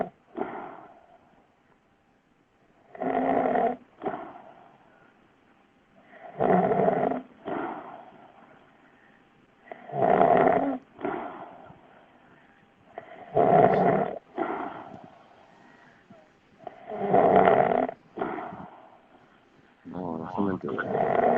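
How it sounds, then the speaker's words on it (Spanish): A man snores in his sleep during a live stream, each loud, rasping breath arriving in a steady rhythm about every three and a half seconds, close and prominent with quiet gaps between. "está roncando, roncando, durmiendo"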